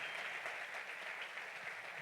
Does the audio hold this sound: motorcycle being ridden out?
no